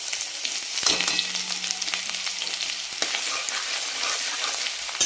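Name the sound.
ginger garlic paste frying in oil in a kadhai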